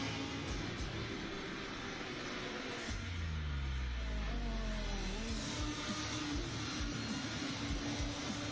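Race car engines from the Assetto Corsa Competizione console trailer roar steadily, with rising revving sweeps and a loud acceleration passage midway, continuous and unaccompanied by talk.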